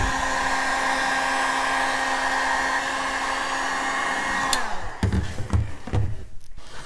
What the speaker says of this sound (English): We'll reheat it using the heat gun for about 5 to 10 minutes.